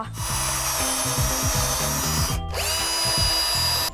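A power drill whirs in short bursts of varying speed while building a roof, with a brief pause in the middle, close and loud.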